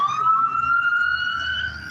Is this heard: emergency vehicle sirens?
yes